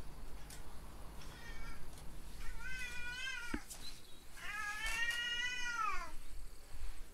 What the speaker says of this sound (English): Why are you meowing like that?